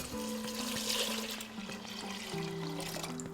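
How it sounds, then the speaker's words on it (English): Vegetable broth pours into a soup pot for a smoky split pea and sweet potato soup, a soft continuous liquid splashing and gurgling, near and without talk. "Add in the vegetable broth,"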